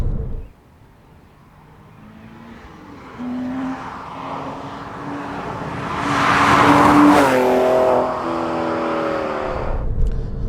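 A modified Porsche 996.2 engine revs up and climbs in pitch, its exhaust roaring loudly near the middle before easing off, with a sharp crackle at the end.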